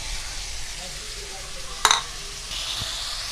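Chicken, onion, capsicum and carrot sizzling in a frying pan while being stirred, a steady close hiss broken by one sharp spatula scrape against the pan.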